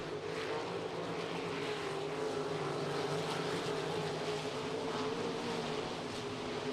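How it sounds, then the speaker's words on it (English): RaceSaver sprint cars racing on the dirt track at I-90 Speedway, a continuous distant roar of several engines battling together, steady and fairly faint. "They're 3 deep, nearly 4 cars battling in that spot."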